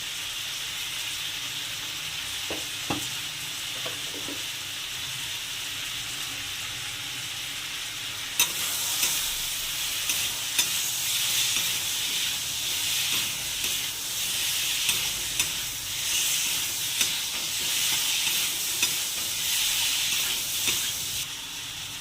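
Ground coriander and turmeric spices sizzle and fry in a pan for a rohu fish curry with ridge gourd and potato, a steady hiss that grows louder partway through, with the scrape of stirring over it.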